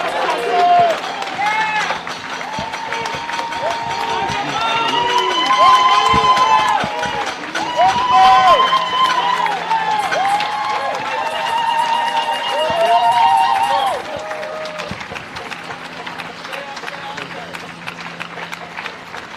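A crowd at a protest rally claps and cheers loudly, with rhythmic applause and shouting voices rising and falling throughout, and people talking and chanting over it.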